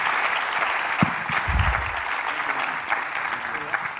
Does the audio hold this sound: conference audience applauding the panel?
yes